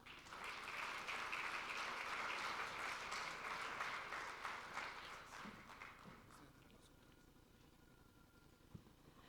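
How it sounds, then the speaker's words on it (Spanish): Applause from an audience at a medical conference session in Guadalajara, a dense, steady patter of clapping that fades out after about six seconds, leaving quiet room noise, heard from a distance. "Un fuerte aplauso, por favor"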